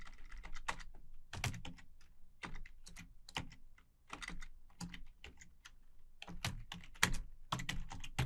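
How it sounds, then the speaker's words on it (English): Rapid typing on a computer keyboard into a terminal window, a dense run of crisp close keystrokes with a brief pause midway, steady and alone without speech. "in the terminal window, we're going to type in service."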